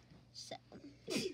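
A single quick sneeze bursts out near the end, preceded by short sharp inhaled breaths, with a brief spoken word close by.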